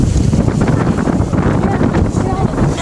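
A boat cruises through open water on Calibogue Sound, heavy wind buffeting the microphone with a constant low roar and rushing water throughout, up close, while a voice speaks over it.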